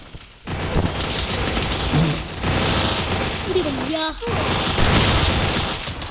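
Gunfire in a shooting video game, rapid bursts of automatic fire crackling through a dense, loud mix, with a voice talking over it.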